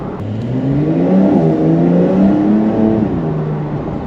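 A Porsche 911 Carrera engine revs hard and close up, with rising and falling pitch sweeps over a steady mechanical drone that continues without a break.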